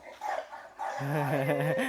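A dog gives a short bark and whimpery yips, close by, with a voice briefly audible alongside.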